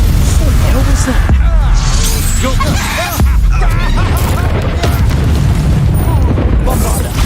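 A Bombarda spell blast in Hogwarts Legacy booms loudly amid dense combat noise, with a voice shouting over the continuous rumble of battle.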